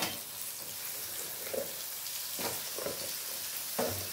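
Chicken pieces go into a pan of unfried potatoes for a chicken and potato curry, giving a steady soft sizzle with a few muffled bumps and stirring sounds, fairly quiet and without talk.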